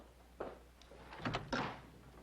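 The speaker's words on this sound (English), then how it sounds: "I'll get the door." A door is opened with a few soft knocks and a latch clack, then two louder thuds close together, moderately near in a quiet room with no talking.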